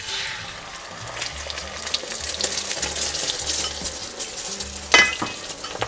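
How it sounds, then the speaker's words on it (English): An egg fries in hot oil in a pan, giving a steady loud sizzle and crackle throughout, with a few stirring scrapes and a sharp utensil clink near the end. "Now let's pour the egg into the pan"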